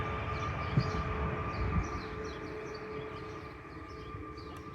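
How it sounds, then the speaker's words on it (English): A low rumbling railway noise rolls on steadily, with a faint tonal whine and a couple of dull clunks early on. "we got all kinds of railway noise happening today"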